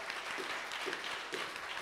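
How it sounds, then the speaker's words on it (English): A church congregation gives a short burst of applause during a Sunday service, steady crowd clapping filling the room. "Why don't we applaud King Jesus?"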